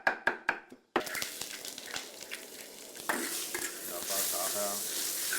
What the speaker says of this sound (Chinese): 翻炒至5成熟